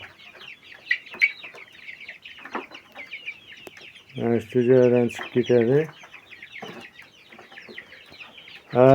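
A young rooster in a poultry yard lets out a burst of loud, close clucks in the middle, among scattered chick peeps and a quieter voice talking.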